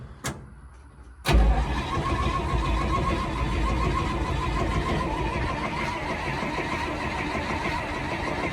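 A 70-year-old farm truck cranks over and its engine catches at once, then settles into a loud, steady, rough idle that holds close by with no one talking.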